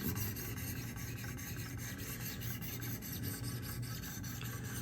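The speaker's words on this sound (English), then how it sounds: "So now we're up to the 800 grit." Spyderco PM2 knife with a Maxamet steel blade sharpened on a Wicked Edge system with 800 grit stones, quiet rhythmic rasping strokes repeating in a steady back-and-forth pattern, close and faint.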